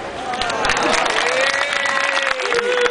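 A theatre audience at a forum-theatre play applauds in a short burst of clapping, mixed with overlapping voices and some shouting close by.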